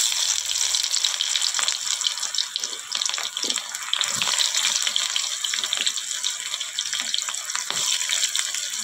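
Chopped onions fry in oil for Bengali mutton kosa, giving a steady, loud, close sizzle with faint clinks and scrapes underneath.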